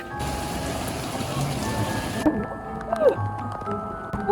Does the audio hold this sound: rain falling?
yes